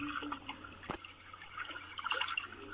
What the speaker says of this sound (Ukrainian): Так, дійсно, це вода.